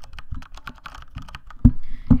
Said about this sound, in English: It's a Brown Switch Corsair keyboard.